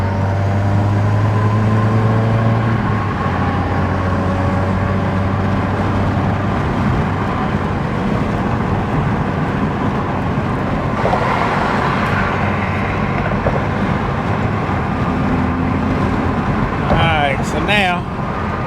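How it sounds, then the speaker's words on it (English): A car cruises on the freeway in sixth gear at about 2600 RPM. A steady engine drone mixes with road and wind noise, with a voice talking over it. "I'm in sixth gear, kind of cruising at about 2600 RPMs"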